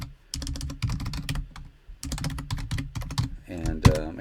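Rapid clicking keystrokes on a computer keyboard set close to a microphone, typed in quick irregular bursts with short pauses and one louder thump near the end.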